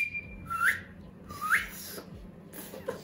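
A person whistles a few short rising notes in a casual indoor chat, two clear upward-swooping whistles spaced about a second apart, fairly quiet over room noise.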